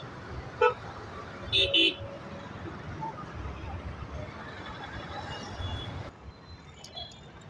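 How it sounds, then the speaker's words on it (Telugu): Heavy Monday road traffic: a steady rumble of vehicles with a few short car horn toots near the start, and muffled voices in the background. "చాలా బీభత్సంగా ఉంది ట్రాఫిక్ కూడా"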